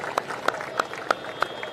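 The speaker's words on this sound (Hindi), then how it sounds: "जोरदार तालियों से सुखविंदर सिंह सुक्खू जी का स्वागत करें" At a Congress rally, the crowd claps in a steady rhythm to welcome Sukhvinder Singh Sukhu, sharp beats landing about three times a second over a low background murmur.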